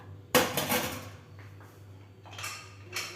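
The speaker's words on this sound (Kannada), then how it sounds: "ಮುಚ್ಚಳ ಮುಚ್ಚಿ ಬೇಯಿಸ್ಕೋಣ" A sharp metallic clank as a lid lands on a pot, followed by lighter rattles and scrapes of cookware nearby.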